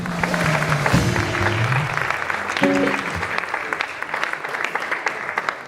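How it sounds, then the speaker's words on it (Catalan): Audience applause breaks out for a guitarist who plays conventional guitar in a Catalan stage show, a steady dense clapping throughout with some voices and a short musical tone mixed in. "Un fort aplaudiment pel nostre guitarrista"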